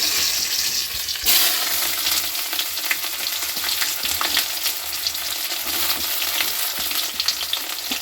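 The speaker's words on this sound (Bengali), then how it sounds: "পেঁয়াজ কুচিটা একটু লাল লাল করে ভেজে নিই।" Chopped onions sizzle steadily in a hot pan, a continuous loud bright hiss with small crackles and a brief stir-like scrape early on, no voices.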